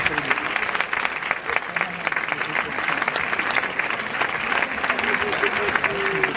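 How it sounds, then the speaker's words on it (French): A cinema audience applauds as guests are welcomed to the stage, with dense, steady clapping from a large crowd that carries on throughout and some voices and cheers mixed in. "Faut les applaudir."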